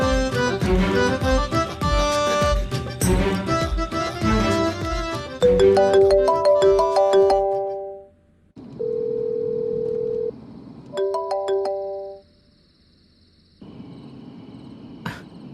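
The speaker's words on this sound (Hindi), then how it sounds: "फोन क्यों नहीं उठा रहा है?" A musical phone ringtone plays, then steady electronic phone tones sound in separate bursts with short gaps, and no voice answers.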